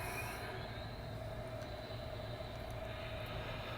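Model steam locomotive from a Y6B articulated engine set starting up: a steady, continuous mechanical hum and hiss, fairly loud and unbroken, with no talking.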